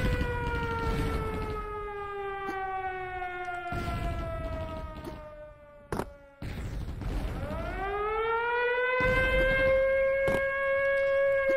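A bomb siren in the video game Blood wails in long, loud rising and falling tones, dipping and cutting out briefly midway before swelling back up, with occasional sharp thuds punctuating it.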